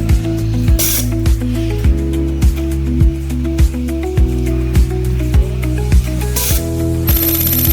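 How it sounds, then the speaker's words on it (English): A WG-4806SJ coaxial cable stripping machine strips single layer wire, giving a steady low motor hum broken by a regular series of sharp mechanical clicks and hissing bursts, close and loud, with a brief bright whir at the end. "Single layer wire stripping demonstration."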